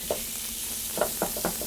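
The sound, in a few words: prosciutto and onions sizzling in a skillet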